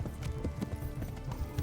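A horse gallops in Kingdom Come: Deliverance, its hooves drumming a rapid, steady clip-clop rhythm close by at moderate volume with no voices over it.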